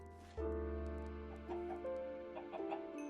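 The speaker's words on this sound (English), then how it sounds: "So I've got myself some chickens in there." Chickens cluck in the modded Minecraft RLCraft game, several close, loud bird calls in an irregular series over a steady low hum, with no speech.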